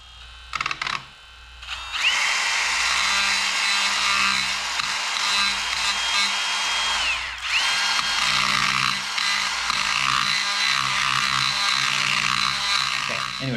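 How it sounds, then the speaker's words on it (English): A die grinder grinding out an aluminum transfer case housing on a Geo Tracker, a loud steady high-pitched whine that starts after a brief sputter, dips once midway, then carries on continuously up close. "if you don't have a die grinder, you could probably do this with a piece of sandpaper because this is aluminum"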